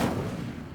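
A single Incendio fire spell is cast in Hogwarts Legacy, a short, loud whooshing burst of flame that fades quickly.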